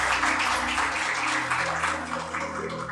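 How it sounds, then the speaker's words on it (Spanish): A church congregation applauds first-time visitors, a dense wash of many hands clapping at once, fairly close, steady and then gradually thinning. "Vamos a dar un aplauso a nuestros hermanos que nos visitan por primera vez."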